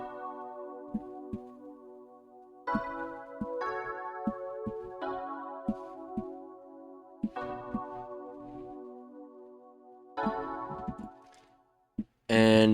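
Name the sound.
beat remake played on Xenology EP Legend W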